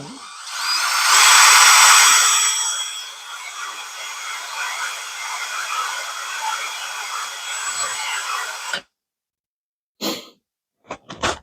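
A power drill whirs steadily for several seconds, swelling louder early on, then cuts off abruptly, followed by a few brief clicks and knocks.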